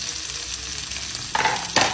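Ginger, garlic and onion hit a hot pan together, giving a steady low sizzle with a stirring scrape and two louder bursts of frying near the end, with no talking.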